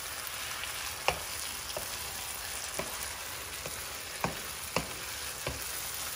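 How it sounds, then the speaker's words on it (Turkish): A teaspoon of black pepper roasts in a pan over steady, even sizzling and frying hiss, with a few soft scrapes or stirs of a utensil now and then, close and continuous, with no voices. "Ve üzerine karabiber, bir çay kaşığı karabiber de ekledim. Ve güzelce kavrulmasını sağlayacağım."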